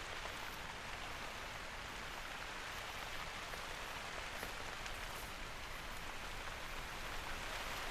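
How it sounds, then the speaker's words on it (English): Steady rain pours down in the video game theHunter: Call of the Wild in a dense, even hiss, with faint scattered drops ticking through it, continuous and without voices. "Listen to the rhythm of the falling rain"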